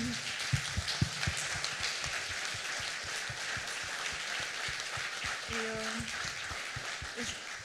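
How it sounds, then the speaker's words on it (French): Audience applause after a panel speaker at a round-table on women in science, a dense, hissing patter of many hands clapping at a distance, even and sustained, with a brief voice partway through. "On peut applaudir, oui"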